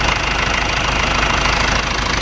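An Isuzu Panther 2.3 engine idles after a workshop service, giving a steady, continuous running drone that is close and loud throughout, with no talking.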